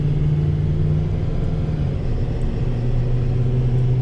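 A loaded 2019 Ford F-750 dump truck carrying about 41,000 pounds pulls away on flat ground at partial throttle, its diesel engine giving a loud, steady low rumble that rises slightly in pitch as it gains speed, heard from inside the cab.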